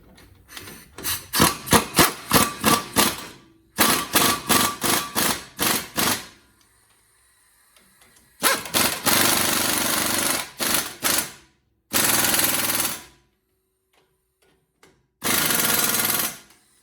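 An impact wrench hammers brake hardware tight on a 2019 Ford E350, firing in quick rattling bursts, first in rapid pulsed trigger taps, then in longer sustained blasts, loud and close with silence between.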